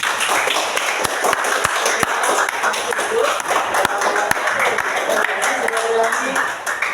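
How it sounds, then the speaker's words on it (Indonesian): An audience claps for a student group after its presentation, a brisk, fairly close mix of many hands with a few sharp individual claps standing out, while voices murmur and chatter underneath. "Berikan tepuk tangan"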